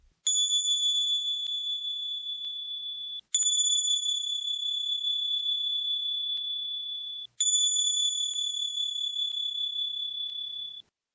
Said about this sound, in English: as we resonate the bells of the Dorje of the dragons